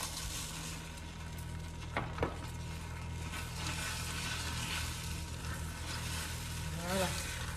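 Sliced almonds tipped into bubbling caramel for a keto nougatine, giving a steady close sizzle with a couple of brief clatters as the nuts go in and get stirred.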